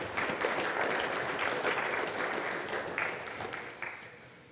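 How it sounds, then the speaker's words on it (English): Audience at a security conference talk applauding after a presentation, a dense burst of clapping from a crowd that swells then gradually thins out. "a big round of applause for both Alex and Zane for breaking Ajax web apps"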